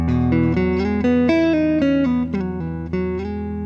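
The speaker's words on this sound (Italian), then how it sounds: "Adesso attiviamo il compressore, stesso arpeggio" Clean electric guitar arpeggio played through a Carl Martin Dual Compressor pedal, with evenly weighted, sustained picked notes ringing one after another at a steady pace, close and alone.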